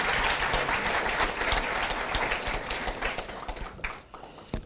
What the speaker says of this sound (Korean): 다시 한번 옆자리 우리 식구들에게 박수 한번 크게 보내주시기 바랍니다.